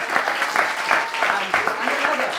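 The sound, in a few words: audience applause for a volunteer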